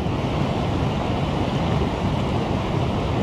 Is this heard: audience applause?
no